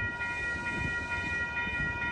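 An Amtrak Capital Corridor passenger train, cab car leading, runs along the tracks at 98th Avenue in Oakland, California, with a steady rumbling roll and faint rail clatter beneath a sustained tonal whine, no voices over it.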